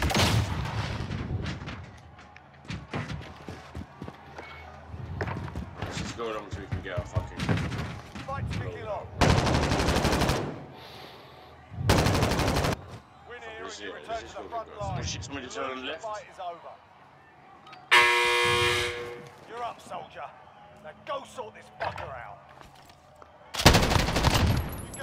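Gunfire in the video game Warzone comes as several loud sharp bursts and single shots spread over the stretch, mixed with frequent excited talking between them.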